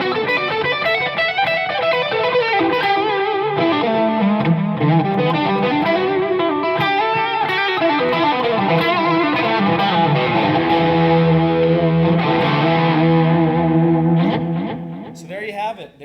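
A Doubleday Starling electric guitar with flamed maple runs through a fuzz pedal with the volume and tone knobs rolled back and delay added, playing a sustained melodic line with echoing repeats for about sixteen seconds.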